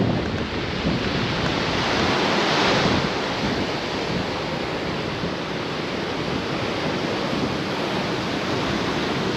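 Ocean waves at Corallia Beach wash in as a continuous broad rush, blended with gusty wind buffeting the microphone, with a slight swell partway through and no voices.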